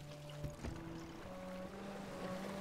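A small boat glides over water in the game Sea of Solitude, with soft continuous lapping and sloshing, a couple of brief knocks near the start, all fairly faint and without speech.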